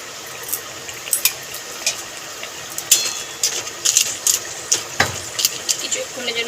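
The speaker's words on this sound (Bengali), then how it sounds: "জল দিয়ে দেবো পরিমাণ মতো।" Water poured and stirred into a pan of papad curry, a wet splashing and scraping texture with irregular clinks and spoon knocks spread through the pour, close up.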